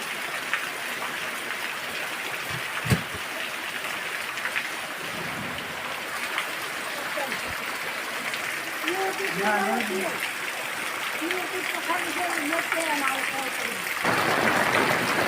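Heavy rain falls on a farm, a dense steady hiss of downpour lasting throughout, with faint voices surfacing briefly in the middle and the roar swelling slightly louder near the end.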